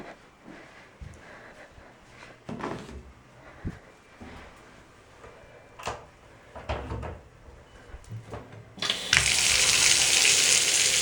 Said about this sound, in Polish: na razie weźmiemy tą do łazienki i zaczniemy napuszczać wody